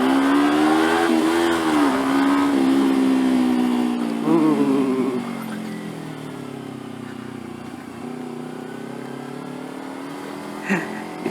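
Kawasaki Ninja 250 FI motorcycle engine revving inside a tunnel, a loud, echoing drone that rises and falls in pitch, with the engine note swelling early and settling into a steadier cruise.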